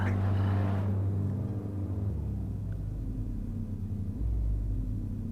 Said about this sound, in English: Drivers just all revving up their engines.